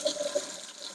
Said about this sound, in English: Let's get some warm water.